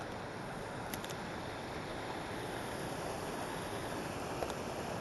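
A waterfall by a trout-fishing stream gives a continuous, close, loud roar of rushing water, a steady broadband wash with no breaks and no voices over it.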